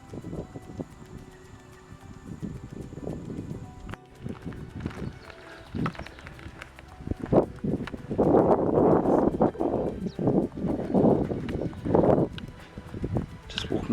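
Footsteps crunch down a hill on a bush track through a sheep paddock, irregular close steps on dry ground growing louder and busier midway, with wind and rustling around them.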